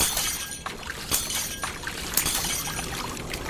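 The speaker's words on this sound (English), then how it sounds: "The water increased so forcefully it cracked the glass." Sharp cracking and shattering of glass as forceful water pressure breaks it, over a steady rush of pouring water, with a few distinct breaking bursts across a few seconds.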